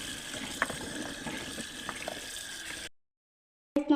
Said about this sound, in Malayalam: പുളി കിട്ടിയിട്ട് നമുക്കിനി കഴുകിയെടുക്കാം.